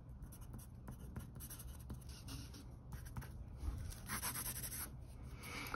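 A Blackwing 602 pencil turns in a Blackwing long point sharpener, giving a steady close scraping and shaving rasp with a slight rhythmic rub that runs throughout.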